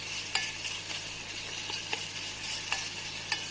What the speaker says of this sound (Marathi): कांदा छान असा लालसर झाल्याच्या नंतर, लसूण पेस्ट टाकल्याच्या नंतर टोमॅटो पण आता छान मॅश होत आहे.